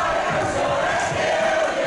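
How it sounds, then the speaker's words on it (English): A wrestling crowd cheers at a 3-on-4 handicap match, a steady loud roar of many voices with no break across the short span. "is letting him know. Crowd behind the Psycho."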